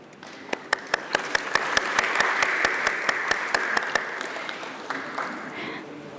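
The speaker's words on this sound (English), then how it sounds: "Let's have an applause for them" Applause at a stock exchange listing ceremony for Deccan Health Care Limited, brisk rhythmic clapping close by over a crowd wash that swells, then fades out after about four seconds.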